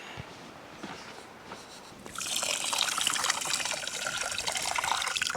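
Tap water runs into a pot for cooking rice on an outback Queensland road trip. A faint trickle at first builds to a fuller steady gush that continues without a break, close by and without talk.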